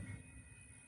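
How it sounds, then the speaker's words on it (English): A slow-moving train rolls past at steady, low volume, a continuous rumble with faint wheel and car noise and a thin high whine throughout, with no talking. "It's a very slow moving train right now"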